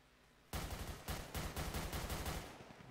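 Rapid gunfire rattles out in a video game roleplay, a loud sudden volley of automatic shots that keeps going in repeated bursts, with no voices over it.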